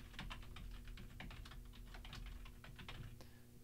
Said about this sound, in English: And then I'll type my email